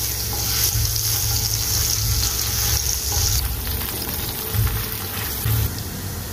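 Cumin seeds, ginger and green chili frying in hot oil in a home kitchen while cooking dhaba-style chana dal, a steady close sizzle with a few louder bursts of spattering.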